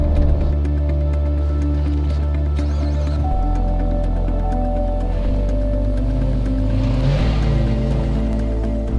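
A 2014 Chevrolet Corvette C7 Stingray convertible with the Z51 package drives steadily, its engine a continuous loud drone that drops in pitch as it shifts, rising and falling through the run with no voices.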